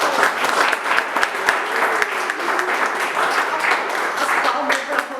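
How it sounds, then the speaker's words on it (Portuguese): An audience at a spiritist talk applauds, dense sustained clapping from many hands throughout, with some voices mixed in beneath it. "As palmas para vocês que me ouviram, tiveram a paciência de me ouvir."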